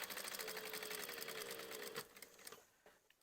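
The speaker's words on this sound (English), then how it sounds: "I'm just going to machine a line of stitching down this side, gather stitching" A sewing machine stitches a straight gather-stitch line down the edge of fabric, running as a fast, even, close mechanical whir for about two seconds before slowing and stopping with a few clicks.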